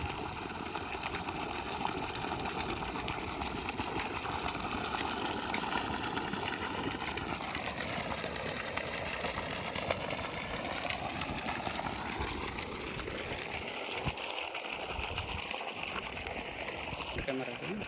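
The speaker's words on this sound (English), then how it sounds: "5 HP 12 stage KSB motor, 300 feet," A 5 HP 12-stage KSB submersible pump set 300 feet deep runs with a steady, dense rushing drone of discharging water and motor noise, unbroken throughout, with a voice briefly over it.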